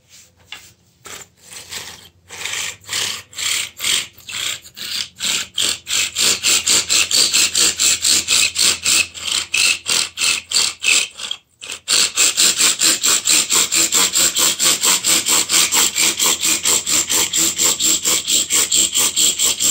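A bow drill string saws back and forth around a friction fire spindle in a steady rhythmic rasp, each stroke loud and close, briefly pausing before speeding into faster, harder strokes.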